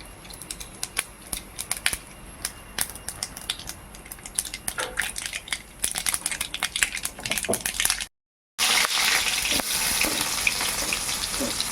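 Mustard seeds crackling in hot oil while preparing a mushroom roast, a rapid irregular stream of sharp pops and spits that grows busier, breaks off briefly, then returns as a dense, louder sizzle.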